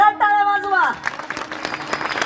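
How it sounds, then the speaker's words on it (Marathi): An audience claps at a devotional gathering celebrating a Ram temple, a brief burst of applause following a sung note and a voice. "एकदा जोरात टाळ्या वाजवा"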